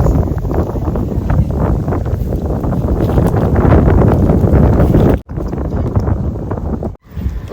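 Strong wind blows across a vineyard in Adelaide, Australia, roaring and buffeting loudly against the microphone in continuous gusts, broken by two brief sudden dropouts near the end.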